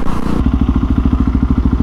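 Husqvarna 701 Supermoto with a loud exhaust revving inside a multistorey car park, a rapid, heavy thudding engine pulse that starts abruptly and booms close and loud against the concrete.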